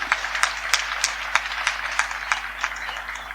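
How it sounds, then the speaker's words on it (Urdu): A church congregation at Sunday Mass claps to welcome children and young people, steady scattered hand claps with a constant low hum underneath. "ان کو تالیوں کے ساتھ خوش آمدید کہتے ہیں"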